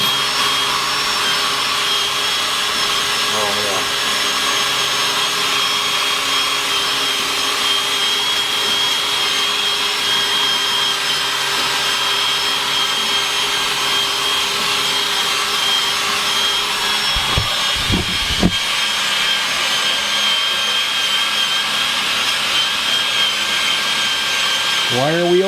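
A wire wheel scrubs rust off a 1964 Malibu, a continuous loud whirring and abrasive grinding that holds steady throughout, with a few brief scraping changes as it bears on the metal.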